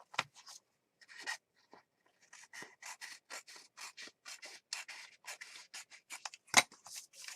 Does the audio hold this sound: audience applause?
no